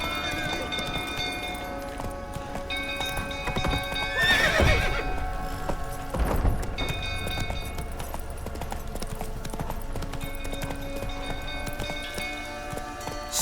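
In The Witcher 3, a horse gallops with rapid hoofbeats and gives several loud whinnies, layered over in-game music and ambience.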